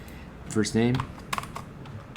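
Keys tapped on a computer keyboard, a few quick clicks close by, with a short burst of speech at the start.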